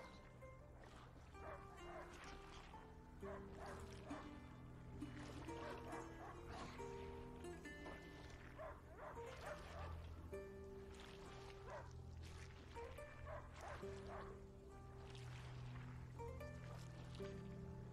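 A dog barks repeatedly in short bursts over a low, steady musical drone and background noise in the video game A Plague Tale: Innocence, fairly quiet overall.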